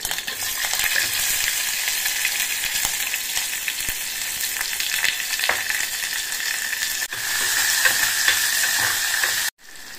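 Onions, curry leaves and cumin fry in hot oil in a pan for a drumstick and egg masala curry, giving a steady, close, unbroken sizzle that cuts out briefly near the end.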